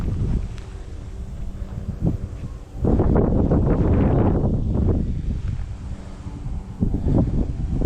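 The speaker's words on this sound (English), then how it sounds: "The wind's gonna blow up much of it" Strong wind gusts buffet the microphone outdoors in a garden, rising into a loud sustained rush in the middle before easing into lighter, uneven blowing.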